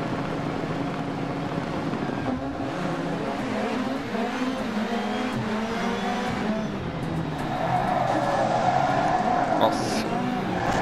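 Seat Ibiza RX 2019 rallycross car racing in DiRT Rally 2.0 on a wet track: a sustained engine roar with rising and falling revs and gear shifts, loud and close, with a brief rougher stretch near the end.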